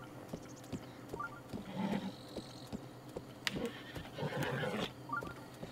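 A horse whinnies twice in The Legend of Zelda: Breath of the Wild, short neighing bursts over a steady low ambient hum with faint background clatter.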